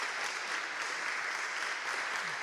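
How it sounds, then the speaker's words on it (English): Audience applause at a scholarship event, a dense, even roar of clapping from a crowd that stays constant and fairly loud for the whole short stretch, with no talk above it. "Let's give her a round of applause."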